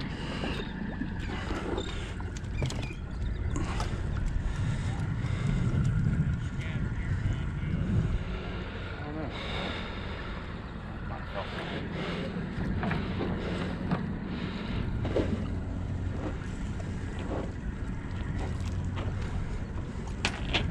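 Wind buffets the microphone on a shrimping boat out on the water, a steady loud roar with engine and water noise underneath throughout.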